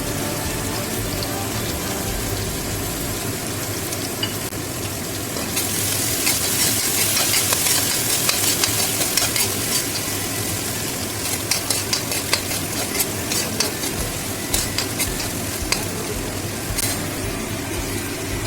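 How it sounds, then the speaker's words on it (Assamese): Ginger and garlic sizzle steadily in hot oil in a pan while being cooked with fresh green chillies. The frying grows louder partway through, with scattered stirring clicks over the continuous hiss. "এনেকৈ অলপমান ফ্ৰাই কৰি থাকিব আদা নহৰু গোন্ধটো নোযোৱালৈকে"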